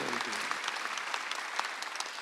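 A church congregation at a Sunday worship service bursts into steady, dense applause that fills the room evenly from start to finish, with scattered sharper claps standing out.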